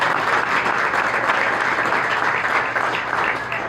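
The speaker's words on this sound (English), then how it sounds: "Another round of applause for Rich Martinez." An audience at an evening business event applauds a speaker, a sustained, full round of clapping that stays loud and even throughout.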